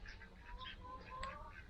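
Ducks quacking in a few soft, scattered calls beside a lake campground on Lago Maggiore, at moderate distance over low background rumble, with no talk.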